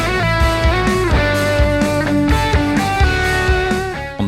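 Distorted electric guitar through a Kemper Profiler amp stack signal only, reamped, plays a steady run of chords and notes, dry and full, with no pauses throughout.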